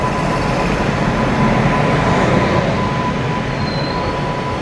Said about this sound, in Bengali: আমাদের ট্রেন ঢুকে পড়েছে 18006 জগদলপুর থেকে হাওড়া সম্বলেশ্বরী